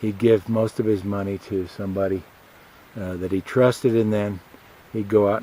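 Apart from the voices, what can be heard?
No everyday noise stands out behind the speech.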